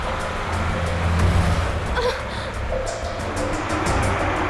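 A car drives in a scene from the TV series CID, with a steady, close engine drone and road rumble throughout and only faint traces of voice beneath it.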